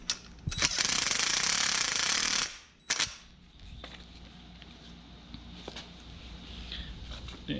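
A valve spring on an LS7 engine is lightly tapped to loosen the keepers, giving a few sharp metallic clicks next to a burst of loud hissing noise, then quiet with faint small knocks.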